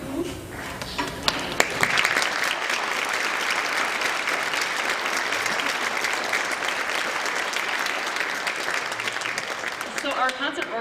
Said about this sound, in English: thank you for your applause for this world premiere number.